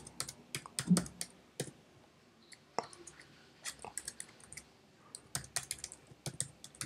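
Steady clatter of keys on a computer keyboard as a file name is typed, close and fairly quiet, with irregular bursts of clicks and short pauses and no voices.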